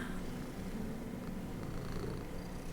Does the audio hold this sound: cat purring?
yes